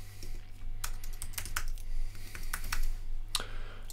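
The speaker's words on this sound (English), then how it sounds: "we just enter the previous password and go ahead and just create a new secure password" A password is typed on a computer keyboard: a quick, irregular run of light key clicks, close and fairly quiet, with a steady low hum underneath and no speech.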